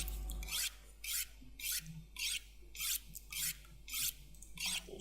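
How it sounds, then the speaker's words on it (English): A hatchet scraped along a whetstone in The Long Dark, seven or eight even rasping strokes in a steady rhythm, fairly quiet over a low hum. "So we can make use of that to sharpen the hatchet."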